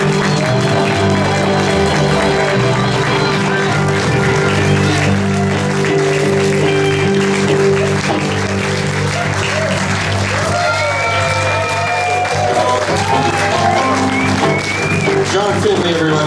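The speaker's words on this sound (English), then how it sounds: "Another round of applause for this beautiful band." Audience applause for a band at a memorial concert for Mendelson Joe in Toronto, a steady, dense wash of clapping from a full room, with a voice talking over it and tonal music or feedback lingering underneath.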